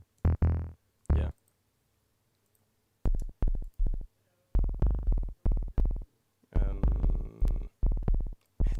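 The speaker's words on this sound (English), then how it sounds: "that's how reverb on the subs sounds like" Deep, booming sub-bass hits pulse in short rhythmic bursts separated by silence, each note trailing off with a reverberant tail.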